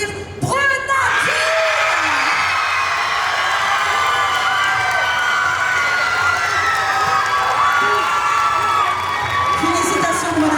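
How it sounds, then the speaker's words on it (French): Audience at a cosplay contest selection event in Vannes cheers, whoops and applauds loudly and steadily for about ten seconds, a dense continuous crowd roar with shouts rising above it. "Je vous demande d'applaudir Brenadine."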